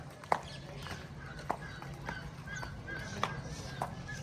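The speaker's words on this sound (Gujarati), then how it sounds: "ચિત્રા ઉપર જો રાઇડિંગ ચાલુ છે છોકરાઓની." Irregular clip-clop of horse hooves, several sharp knocks spaced unevenly over a steady low background hum, moderately close.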